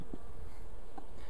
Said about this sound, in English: I'll get some of these bees off of here.